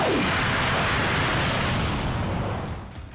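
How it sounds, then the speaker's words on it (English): A Perfect Spirit Bomb attack explodes in a Dragon Ball video game: a loud, roaring blast fills the moment from the start, then tapers slightly as it fades. "let's do Perfect Spirit Bomb"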